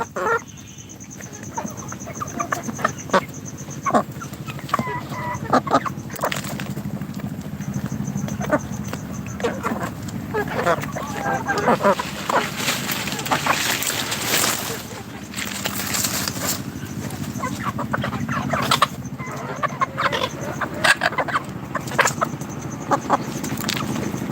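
Pakistani, Australian and local hens cluck on a chicken farm, a busy continuous chorus of calls with scattered sharper squawks and clatter.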